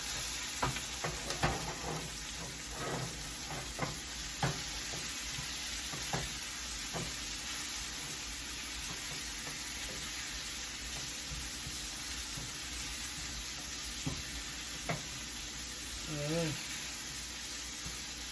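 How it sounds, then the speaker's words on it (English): Seasoned omelette mixture sizzling in a pan while being stirred, a soft continuous fry hiss with scattered scraping and stirring clicks, faint and close, with a brief vocal sound near the end. "then we stir"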